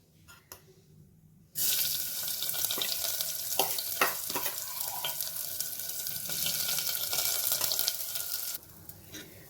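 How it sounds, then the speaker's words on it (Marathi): Washed rice being sautéed in ghee for coconut rice, a steady sizzling and stirring that starts abruptly after a quiet second and a half and runs loud and close, with a few spoon scrapes, until it drops away near the end. "आता हे तांदूळ तुपात छान एक दोन ते चार मिनिटं परतून घ्यायचे आहेत आपल्याला"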